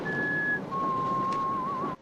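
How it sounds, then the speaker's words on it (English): A man whistles a tune in a film soundtrack, a clear, steady melody held on long notes, then a lower sustained phrase with a slight wavering at the end, over a soft background hum. "So here we see the baggage man whistling it endlessly."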